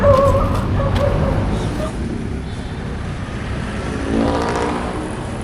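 Motorcycle engine revving in a tense short-film scene, a steady low rumble with a swell near the end, mixed with wind or surf-like noise and shouting voices over it.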